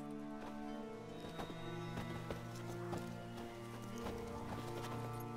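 Roach the horse gallops in The Witcher 3, a quick, rhythmic run of hoof clip-clops over a sustained musical score.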